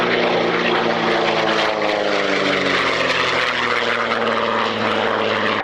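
A replica Fairey Flycatcher propeller biplane flies past at an airshow, its engine a loud, steady droning roar with a rich harmonic buzz that holds evenly throughout.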